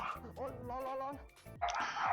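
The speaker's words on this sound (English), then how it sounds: "Sorry about the dogs, they're so loud" Dogs bark and yip indoors in a few quick bursts, mixed in with a person talking over them, moderately loud and close.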